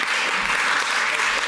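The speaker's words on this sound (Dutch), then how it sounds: "Ja, applaus." An audience at a panel event on data sharing for a healthier city applauds, a dense, steady wash of clapping from many hands throughout.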